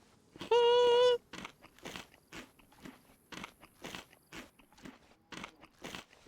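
Eating a chicken steak in a video game: a short loud chime, then a rapid series of crunchy bites, close and clear.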